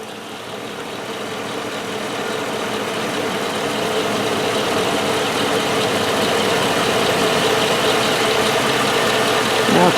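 A 5.3-liter engine, freshly repaired for an oil leak and run with one wheel removed, settles into a steady, continuous idle at close range, holding an even drone with no talk over it.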